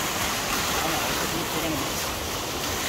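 Continuous loud rushing of water pouring into the channel of a water wheel in Blumenau, a steady wash with no pauses.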